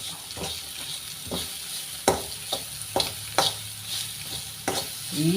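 Bitter gourd sautéing with salt in a pan for a pickle, a steady soft sizzle broken by several sharp scraping stirs and clatters of a spoon against the pan, no voices.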